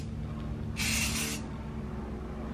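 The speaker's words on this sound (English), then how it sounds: "I'm gonna put a little bit of hairspray in it, because it has to last a long ass time." Hairspray from an aerosol can misted onto hair, a single short hiss of about half a second, close and fairly loud over quiet room noise.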